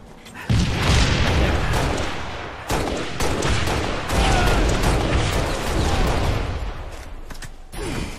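Rocket explosions and gunfire ring out in a Halo Reach multiplayer match, loud booming blasts with rapid shots over a constant noisy background.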